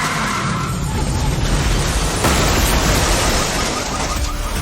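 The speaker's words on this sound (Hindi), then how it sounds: "उन्हें उनके घर के बाहर कोई एक्सीडेंट होने की आवाज आई" A loud car accident right outside a house: harsh tyre skidding and a broad crashing roar that fills the whole clip, with a sharper impact burst midway.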